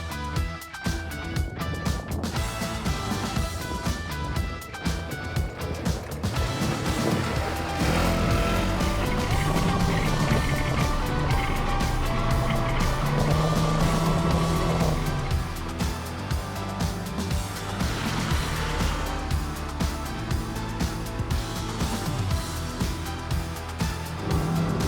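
A Polaris Xcape UTV with an enclosed cab drives along a desert trail, its engine droning steadily with bumps, rattles and rises in revs throughout, loud and close.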